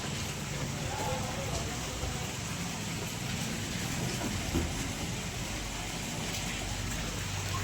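A steady wash of broadband hiss fills the whole stretch, heavy rain falling outdoors at night, constant and unbroken.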